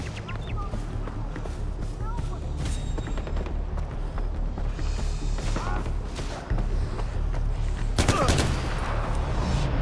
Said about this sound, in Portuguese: Tô dando tiro na cabeça direto.